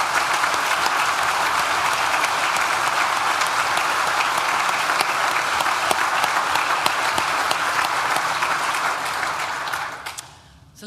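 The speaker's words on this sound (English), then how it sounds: "So I just wonder if we can give them a round of applause for all their efforts." A large audience applauds graduates at a university graduation ceremony, steady loud clapping sustained for about ten seconds before tapering off quickly at the end.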